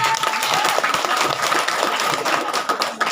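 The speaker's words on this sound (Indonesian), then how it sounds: "Tepuk tangan." Audience applause at a boarding-school reunion gathering, a dense, steady wash of clapping filling the whole moment at close range without any talk over it.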